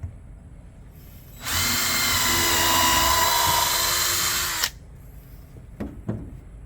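A power drill bores a hole into a heavy wooden birdhouse, its steady whine running loud and unbroken for about three seconds before cutting off, followed by a few light knocks.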